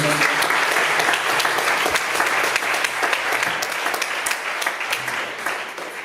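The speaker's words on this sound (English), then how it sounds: "Please give a big round of applause for him." A congregation at a Vyasapuja celebration in Wellington, New Zealand, breaks into sustained, dense applause that gradually tapers off.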